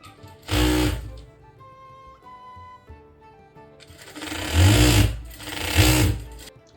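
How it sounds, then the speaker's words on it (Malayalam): A sewing machine stitching the folded sleeve of a collared kurti: a loud close whirring burst, a quiet gap with a faint tone, then two more runs of rapid mechanical stitching. "ആദ്യം നമുക്ക് കൈ ഒന്ന് മടക്കി തയ്ക്കാം."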